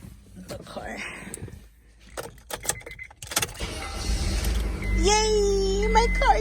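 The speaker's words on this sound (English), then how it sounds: "I'm about to start the car." A car is started with its keys after an alternator repair: jingling and clicks of handling first, then the engine turns over and settles into a steady running rumble while a person speaks with excitement over it.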